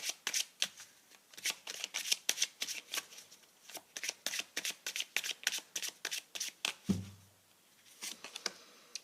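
Tarot cards are shuffled by hand in quick repeated riffles and flicks, a rapid run of crisp papery bursts at close range, with a short thump partway through and no voices.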